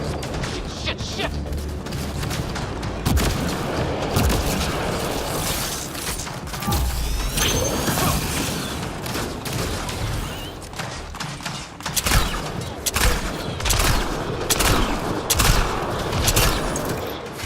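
Gunfire in the video game Mass Effect: Andromeda, loud bursts of shots and sharp mechanical clatter coming in rapid clusters through a busy combat mix, growing denser toward the end.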